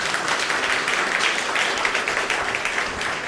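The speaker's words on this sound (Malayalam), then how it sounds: "ഒന്ന് വലിയൊരു കൈയടി കർത്താവിന് കൊടുത്തേ" An audience at a Christian retreat in Trivandrum applauds steadily, a dense wash of many hands clapping at even loudness throughout, with no talk over it.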